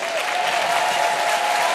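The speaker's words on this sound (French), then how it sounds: "je voudrais qu'on l'applaudisse" Dense, steady applause rises from a festival audience at the Francofolies de La Rochelle. It forms a continuous wash of many clapping hands with a faint sustained tone beneath it.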